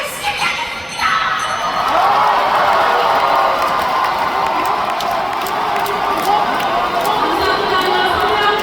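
A large audience in a convention hall breaks into loud, sustained applause and cheering at a Democratic Party national convention, with a surge after the first second and whoops and crowd noise continuing throughout.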